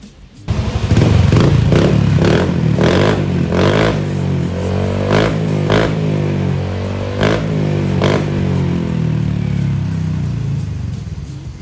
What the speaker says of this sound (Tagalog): Una nga namin tinesting ni kuya yung muffler na bilin GP2.